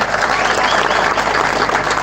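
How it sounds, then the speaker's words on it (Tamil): A packed hall at a TVK party political event claps and cheers after children sing on stage; dense, steady applause fills the space, loud and close. "ஒரு அரங்க நிறைந்த கைத்தட்டாங்க"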